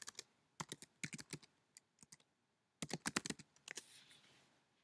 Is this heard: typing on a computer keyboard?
yes